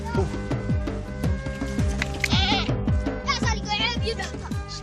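A goat bleats repeatedly at close range in the Danakil Desert, a string of short nasal cries over a quiet outdoor background with no talking.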